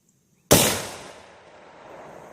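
A single sharp gunshot cracks out during ballistics testing at a range, very loud and sudden after a moment of quiet, then decays into a lingering echo.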